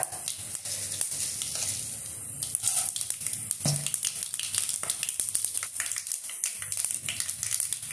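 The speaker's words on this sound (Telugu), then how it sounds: "దీనిలో తాలింపు దినుసులండి, పచ్చిశనగపప్పు," Mustard seeds, dried red chillies, peppercorns, chana dal, urad dal and cumin tempering in hot cow ghee for a multigrain upma, giving a steady close sizzle with dense crackling pops throughout.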